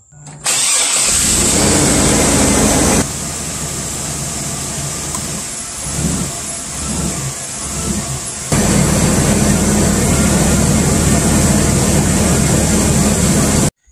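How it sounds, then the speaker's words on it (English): A Chevy engine cranks and catches after a mass air flow sensor replacement, then settles into a steady, loud idle close by, with a brief change in tone midway before the running note returns. "turn on the vehicle and make sure we fix that rough idle"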